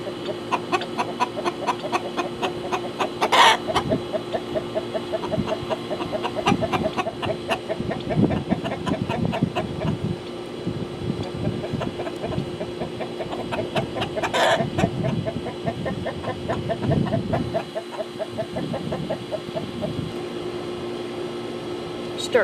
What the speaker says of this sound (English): we got some chickens in an uproar because of the new birds that we have out here